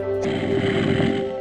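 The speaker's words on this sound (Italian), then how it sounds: "C'era il suono dello zombie di Minecraft" A Minecraft zombie from the video game gives a low, droning groan over a steady hum, heard briefly and alone.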